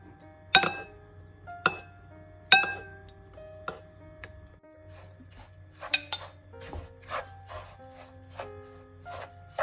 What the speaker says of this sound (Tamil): நான் இந்த முட்டையோட இதுக்களவான நல்லெண்ணெயை சேர்க்க போறேன். சேர்த்துட்டு நல்லா கலந்து விடுவோம்.